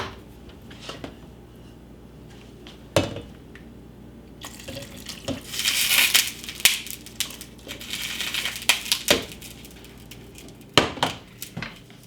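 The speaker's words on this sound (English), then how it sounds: "And then poured in a little bit of that liquid off of the turkey tails." Cooking liquid from simmered turkey tails is poured into a pot of green beans, with splashing and trickling that swells in the middle, plus a few sharp clinks of a utensil against the pot.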